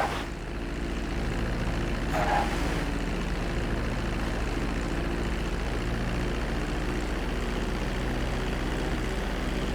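An airplane's engines drone steadily in GTA 5 as it comes in to land, a loud, continuous propeller roar with a brief rise in the middle and no talking.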